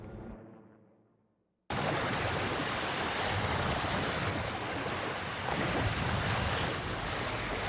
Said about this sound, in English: The sound of waves lapping at the beach is a common sight along this Lake Michigan shoreline